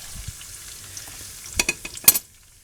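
Potato soup toppings frying in a pan to get crispy, a soft sizzle with a few sharper scraping and stirring clatters toward the end, close and quiet.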